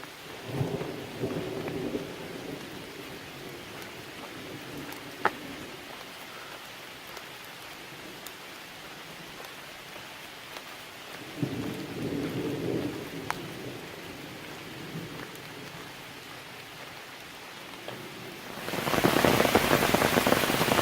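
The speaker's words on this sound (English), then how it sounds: "thunder in the background" Thunder rolls during rain on the Appalachian Trail, with low distant rumbles in a few long swells under steady rainfall, and the rain grows loud and close near the end.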